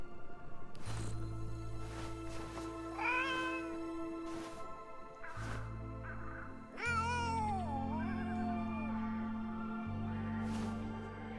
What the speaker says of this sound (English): Did we find the perfect cat?